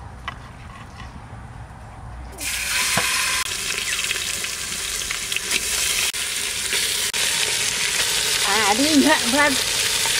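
Duck meat dropped into a little oil in a new clay pot bursts into a loud, steady sizzle that fries on continuously, with faint stirring and a voice murmuring near the end.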